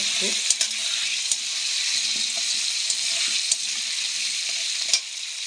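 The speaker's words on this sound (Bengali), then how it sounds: "তেল গরমে গেছে এখন আমি আলুগুলো দিয়ে দেবো এক এক করে আলুগুলো একটু লাল লাল করে ভেজে নেব" Potatoes frying in hot oil, browning in a home kitchen pan: a steady, close, bright sizzle runs throughout, with occasional pops and stirring clinks and a faint voice underneath.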